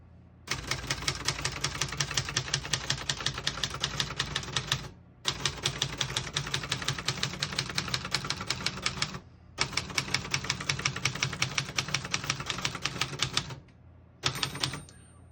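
Rapid, crisp keystrokes on a 1972 Brother Prestige 688 vintage portable typewriter, close and loud, come in three long bursts of clattering typing with brief pauses between, then a short final burst.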